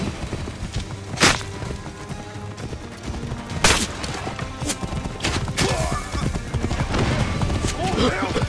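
A horse in the Assassin's Creed Origins video game clip-clops with steady hooves and neighs, mixed with sharp impacts and game effects, while a voice talks over it.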